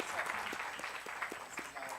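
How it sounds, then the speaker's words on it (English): Audience applause at the close of a panel discussion during the Bhopal Literature and Art Festival 2023, a moderate, steady patter of many hands filling the room, fairly even and sustained with no voices over it. "I think we must give them a round of applause for the wonderful discussion that we have had"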